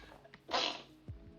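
One short, sharp sneeze bursts out close by at low room level, with a faint breathy intake before it and soft movement noise after.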